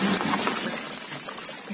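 Dirty water drains out of a roughly 19-to-20-year-old washing machine, a steady close pouring, trickling wash that runs continuously with no talking over it.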